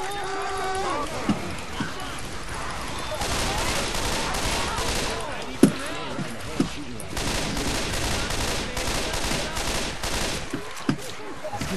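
Gunfire in Left 4 Dead 2 from a firefight in The Passing campaign: dense, continuous bursts of shots with sharp louder cracks standing out, under a busy game soundscape with voices talking over it.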